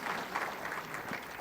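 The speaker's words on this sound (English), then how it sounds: "A round of applause for our administration and our council and the great work they do." Township audience gives a short, soft round of applause for the administration and council, scattered claps heard at a distance in a large room.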